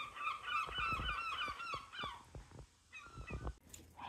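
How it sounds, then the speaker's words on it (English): Seagulls in Margate calling repeatedly in quick, squawking bursts, moderately close over faint background noise, continuing throughout. "Do you hear the seagulls?"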